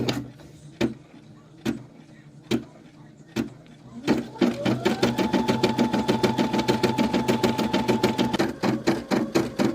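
A Brother SE600 embroidery machine stitching: a few spaced mechanical clunks, then a rapid, steady rhythmic whirring chatter with a sustained motor hum, close and loud, no talking.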